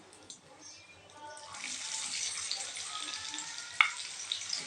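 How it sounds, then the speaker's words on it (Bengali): Chopped onions hit a hot pan for an egg curry, already holding whole garam masala and a little nutmeg, and a steady broadband sizzle swells up and holds. One sharp crackle pops partway through. "দিয়ে দিচ্ছি কুচনো পেঁয়াজ।"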